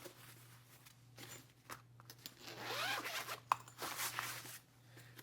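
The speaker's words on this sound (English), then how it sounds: "Zipper on the top. There's a slight zipper on the side." Zipper on a Vangoa VGD611 piano keyboard case pulled open in a few rasping strokes, fairly close and moderately loud, with a steady low hum underneath.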